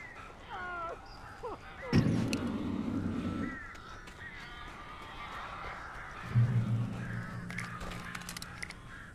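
Birds in the video game Alan Wake caw and screech in harsh calls, with two heavy thuds under them and some game ambience around.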